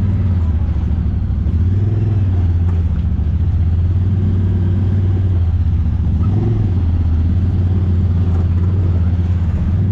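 Honda Talon X Live Valve UTV driving through a mud hole on a 4x4 trail, its engine a loud, steady, close rumble that swells with two revving surges.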